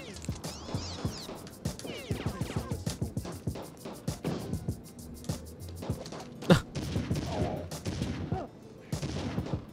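Gunfire in the PS2 game Fugitive Hunter: War on Terror: a rapid, uneven string of sharp shots runs throughout, with one heavier blast near the middle.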